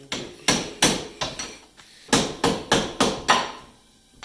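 A hammer taps about a dozen times in an uneven rhythm during a coilover install on a 2013 Subaru WRX, close by and fairly loud, with short pauses between groups of blows.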